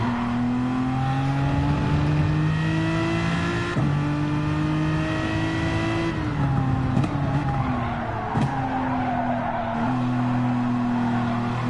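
A race car engine in Gran Turismo 7 holds a loud, close, steady drone that climbs in pitch through each gear and drops at shifts, with faint tire squeal and no talking.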